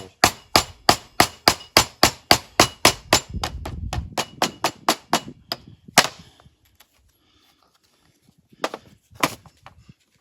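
A ball-peen hammer taps rapidly on gasket paper against a water pump on a 1950s Land Rover Series 1 2.25 engine, a quick, even series of sharp knocks, slowing and pausing, then a few final taps after a brief silence.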